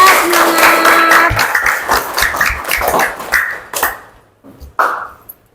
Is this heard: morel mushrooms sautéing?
no